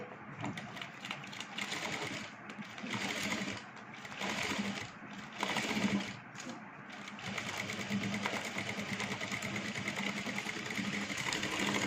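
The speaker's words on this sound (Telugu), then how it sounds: "ఆ మార్క్ మీద ఇప్పుడు మనం మిషన్ కుట్టు వేసేయాలి." A sewing machine stitches fabric along a marked line, running with a steady mechanical whir that briefly dips and resumes, fairly quiet and without talk.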